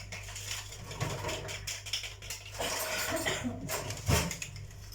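Metal dessert spoon lifted and tapped in a home kitchen while baking soufflés, giving a few light clinks against dishes amid soft handling noise, with a brighter clink near the end.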